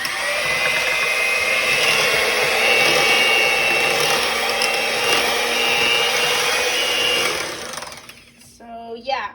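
Electric hand mixer whipping homemade shea butter cream runs with a loud, steady whine for about eight seconds, then cuts out, leaving a brief moment of speech at the end.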